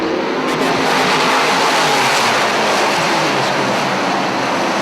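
Dirt modified race cars roar around the dirt oval at Airborne Speedway in Plattsburgh, New York, a dense, continuous wall of engine noise from a pack running close together, loud and unbroken throughout.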